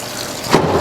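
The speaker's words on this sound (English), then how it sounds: "So let's run our pork liver through some cool water." Cool tap water runs over pork liver in a sink or bowl, a close, loud, steady rushing gush that swells slightly partway through, with no speech.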